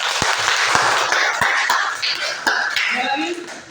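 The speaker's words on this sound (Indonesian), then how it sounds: "Tepuk tangan dulu ya." A classroom of students claps together, a burst of brisk, fairly close hand claps that thins out toward the end while voices murmur underneath.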